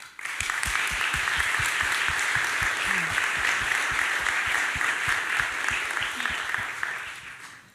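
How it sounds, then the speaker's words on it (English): An audience of students and parents at a school senior prizegiving applauds steadily from start to finish, broad and sustained clapping that fades slightly at the end, with a faint low voice underneath. "please join me in showing your appreciation with a round of applause"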